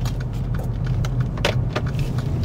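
Interior hum of a Mercedes A-Class turning around on the road, a steady low engine drone with scattered clicks and rattles from the cabin, close and continuous.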